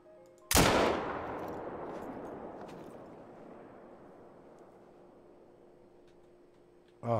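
A single loud, close rifle shot from a Grelck drilling rifle in the hunting game theHunter: Call of the Wild, with a sharp blast that rolls away in a long echoing tail over several seconds before a second report begins.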